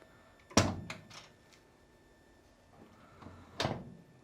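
The hood latch of a Porsche 911 backdate releases with a sharp close clunk, followed by a few lighter clicks and a second softer thunk a few seconds later, all quiet otherwise.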